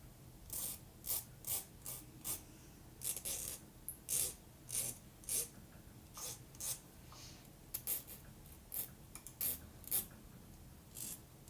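Metal jewelry wire is filed smooth in quick, rasping strokes that come in short, evenly spaced bursts, close up and fairly quiet, with no talking.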